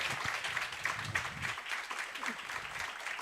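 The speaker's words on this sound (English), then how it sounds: "one more time, ladies and gentlemen, a round of applause" Workshop audience in Atteridgeville giving a round of applause, a short burst of moderately loud clapping from a small crowd that thins out toward the end.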